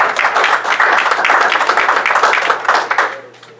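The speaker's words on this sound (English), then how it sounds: "Let's give those board members a round of applause." Meeting attendees applaud the board members at a school board meeting, a dense, even round of clapping that holds strong before tapering off at the end.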